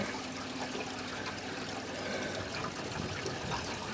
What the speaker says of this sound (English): opened the sewer valve, the black tank valve, and sounds good. It's rushing out.